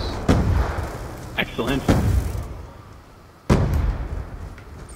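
Gunfire from a deployed sentry gun in a multiplayer shooter game, sharp loud bursts spread across the moment with gaps between, while players talk over the action.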